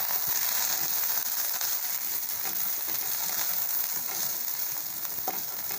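Chopped big onion sautéing in a pan, a steady, close sizzle and crackle of frying that runs unbroken throughout, with faint scraping of a spoon now and then and no talking.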